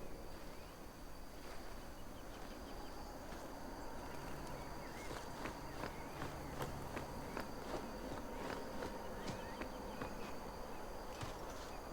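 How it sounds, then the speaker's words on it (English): Bee buzzing in the game Dragon Age 2, a faint, steady insect drone mixed with soft ticking and scuttling sounds in a quiet ambient scene, without talking. "I've been stung by a bee."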